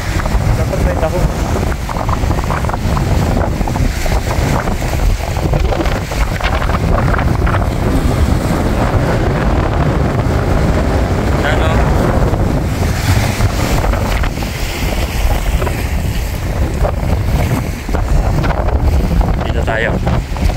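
Strong wind buffets the microphone on Maraetai Beach in South Auckland, a loud, constant broadband roar with surf underneath, steady for the whole stretch with little let-up.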